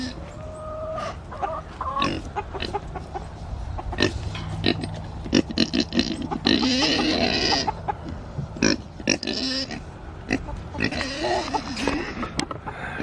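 Pig on a small farm grunting and snuffling repeatedly at close range, hungry and waiting to be fed, in irregular bursts of rough oinks with some background voices.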